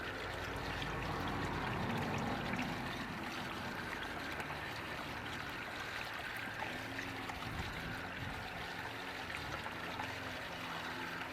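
Rainwater runs through a garden siphon tube in a steady, faint trickling flow that carries on evenly for the whole clip with no talking.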